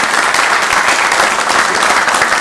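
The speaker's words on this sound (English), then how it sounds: "she is due a round of applause" A round of applause for Janet at a transit authority board meeting, with steady, full clapping from the room that stays loud and even throughout.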